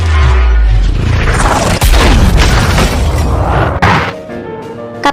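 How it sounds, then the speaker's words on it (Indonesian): A cannon shell slams into a building during an urban battle for a city: a loud, deep boom opens, followed by rumbling debris and two sharp crashing impacts. "seketika meriam itu menghantam gedung Kapten Gromov"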